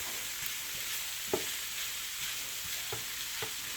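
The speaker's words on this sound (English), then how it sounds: "So I'm going to just saute that and brown them up." Meat browning in a pan for a pork-free red beans and rice dish, giving a steady soft sizzle with a few faint stirring clicks and scrapes, no talking.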